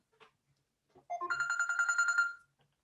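A mobile phone ringtone plays alone, a bright repeating melodic chime that pulses steadily for about a second and a half, close and fairly loud, then stops.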